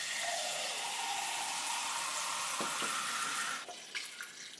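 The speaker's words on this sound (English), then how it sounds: "Now I'm just going to get some water." Tap water runs steadily and loudly into a container for making sea moss gel, then cuts off near the end, followed by a few faint clinks.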